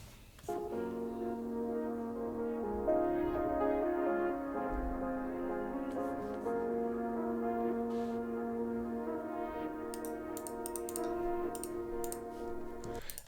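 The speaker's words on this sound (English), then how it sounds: "It's a reversed riser." A reversed riser sample pitched up and down in a melodic house production, heard as a soft, sustained, swelling tonal pad with shifting harmonics, fairly quiet and steady, with faint clicky ticks near the end and no voices.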